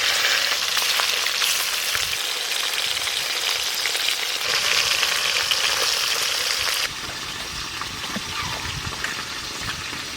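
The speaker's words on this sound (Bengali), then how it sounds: "হালকা করে ভেজে তুলে নেব।" Fresh live small carp pieces frying lightly in hot oil in a home kitchen, giving a loud, continuous crackling sizzle that holds steady throughout and eases slightly toward the end, with no talking.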